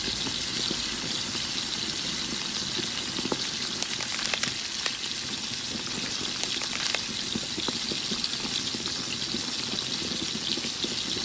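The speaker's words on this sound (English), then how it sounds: "Fry until golden brown." Cornstarch-coated chicken thighs sizzle and crackle in hot oil in a pan, a dense steady fry with scattered sharp pops throughout.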